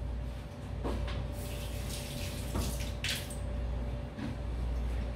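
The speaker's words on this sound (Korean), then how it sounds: "그럼 싱크대 가서 헹구시는 거예요." Water running and splashing at a sink as a jigger and bar spoon are rinsed, with soft clinks and shifting flow, fairly quiet and close.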